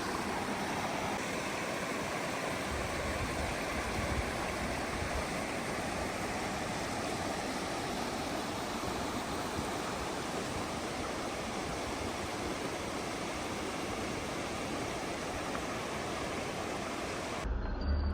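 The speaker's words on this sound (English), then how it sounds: "This right here is the entrance to Charlie's Creek, also part of the Georgia Traverse" Charlie's Creek near Clayton, Georgia, rushes in a steady, dense wash of flowing water that stays even and loud throughout, with no voices.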